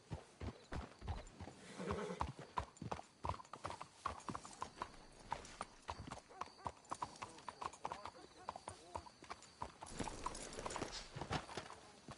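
Horses' hooves clip-clopping steadily in Red Dead Redemption 2, a continuous close rhythmic stream of hoofbeats with occasional snorts while characters talk over it.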